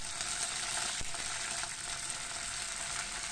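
Mustard seeds, dried red chillies and curry leaves temper in sesame oil in a small kadai, giving a faint, steady, hissing sizzle with a tiny crackle.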